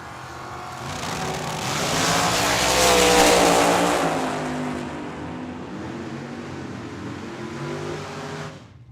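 Drag race cars tear down the strip at Tucson Dragway, their engines swelling into a loud roar that peaks and then fades as they pass, with no talking.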